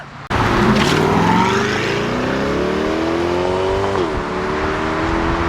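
A sleeper car pulls away hard from a Houston car meet, its engine snarling loud and close and then rising steadily in pitch through the gears with a brief shift dip.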